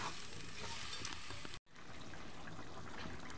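Country chicken pieces, already fried, sizzle in a pan after a little water is added, giving a faint, continuous hiss and crackle with a brief dropout midway.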